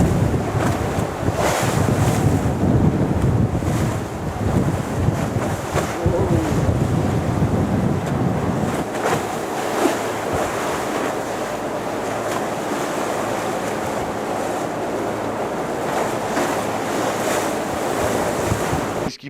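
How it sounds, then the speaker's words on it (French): Strong wind and big waves at sea aboard a racing sailboat off Kinsale, with a steady loud roar of surf and rushing water and gusty wind buffeting the microphone throughout, and no voices. "Le vent il oscille beaucoup avec des grosses molles et des grosses vagues"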